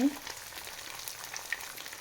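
Soft, steady sizzling of chive cakes frying in a pan, faint and continuous with small crackles.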